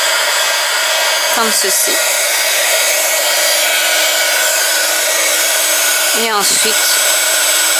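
A heat gun blows a loud, constant roar for hot embossing, used close up. A person speaks briefly over it twice.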